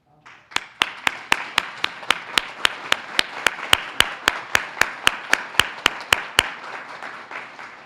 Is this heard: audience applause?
yes